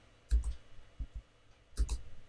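A computer mouse clicks a link in a quiet room, giving a few crisp close clicks in small clusters with pauses between them.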